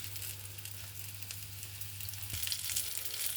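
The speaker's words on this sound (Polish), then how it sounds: "oczywiście będziemy je tutaj smażyć" Chicken tenderloins in paprika breading fry in a pan, giving a soft, steady sizzling hiss that stays faint and continuous throughout.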